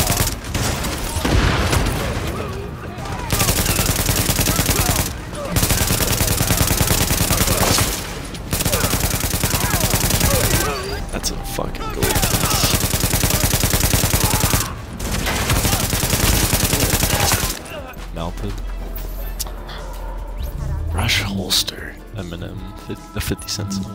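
AK rifle gunfire in The Division video game: long, loud bursts of automatic fire broken by short pauses, then quieter scattered shots and game noise, with a voice talking over it.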